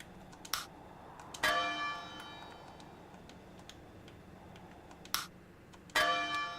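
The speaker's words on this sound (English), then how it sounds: "it makes a little bell sound and it lights up as well" Bell chime from a lamp built into a bell in the Western Decor mod for Ark Survival Ascended: two pairs of bright, ringing strikes, each decaying slowly, clear and alone over a faint background.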